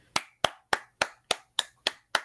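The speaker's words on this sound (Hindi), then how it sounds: "आप सबकी ज़ोरदार तालियों में हम खुदावंद के बंदा पास्टर आशिर बशीर को दावत देते हैं।" A church congregation welcomes a pastor with applause; eight crisp, evenly spaced claps ring out alone, sounding like one or a few people clapping steadily and closely in a quiet hall.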